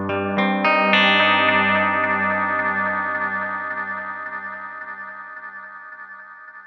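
Adriatic delay pedal driven to high feedback, a sustained wash of repeating, layered tones that swells at the start and slowly decays while staying dense and ringing, slightly gritty, with no voices.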